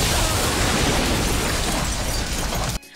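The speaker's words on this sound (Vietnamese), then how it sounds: "Vụ nổ cực lớn suýt nữa đã lật tung nguyên cả đại sảnh" A huge explosion in a film roars as a loud, dense blast of noise that sustains for nearly three seconds before cutting off sharply.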